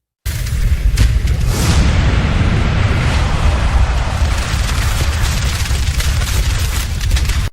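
A loud, sustained explosive roar that rumbles on continuously for several seconds, deep and booming, with no voices.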